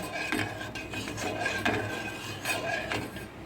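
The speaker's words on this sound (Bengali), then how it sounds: "এইভাবে নাড়তে থাকবো আর ঘন করে কিন্তু এটাকে জাল দিতে হবে" A utensil scrapes and stirs watermelon juice in a pan on a gas stove, giving soft, irregular metallic rubbing strokes, close and fairly quiet, with no talking.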